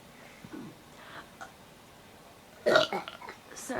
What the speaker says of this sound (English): I'm trying to burp.